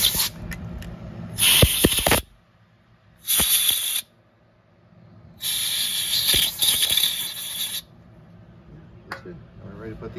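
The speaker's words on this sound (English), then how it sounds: "I'll blow it with some air once that brake cleaner is evaporated" Compressed air nozzle blowing evaporating brake cleaner off a Triumph TR6 trailing arm part: three bursts of loud hissing air, short, short, then longer, with faint handling clatter and background noise between.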